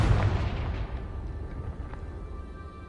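A Confringo explosive spell blast in Hogwarts Legacy: one booming burst at the start, trailing off into a rumbling tail with faint crackles.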